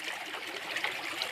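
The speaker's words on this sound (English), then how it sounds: "Water flowing." Clean water trickles and babbles steadily in a natural stream, a bright, continuous close-up flow with no voices.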